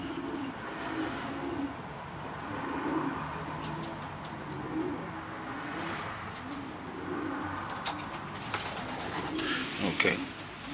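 Racing pigeons in a loft, soft repeated cooing close by amid a low background hum, faint chirps and someone talking.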